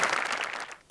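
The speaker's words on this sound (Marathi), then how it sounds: "जोरदार टाळ्या" Audience applause at a live comedy show, a dense burst of clapping that starts full and fades out within a second.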